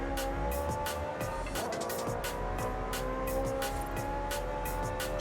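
Tires squeal continuously as a car drifts in the racing game Forza Horizon 5, with a loud engine roar underneath and repeated sharp skidding bursts throughout.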